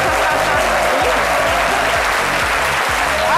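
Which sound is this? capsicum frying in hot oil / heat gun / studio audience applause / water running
studio audience applause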